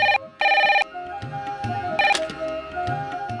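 A telephone rings with repeated electronic bell bursts in a steady on-off pattern, loud and close, heard alone with no voice.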